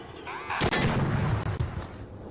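A deep, booming explosion in the video game Trench Tower bursts suddenly, followed by rumbling crackle and a few smaller blasts that fade out.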